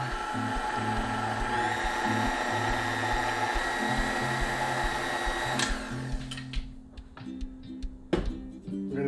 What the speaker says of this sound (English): with the mixer running all the time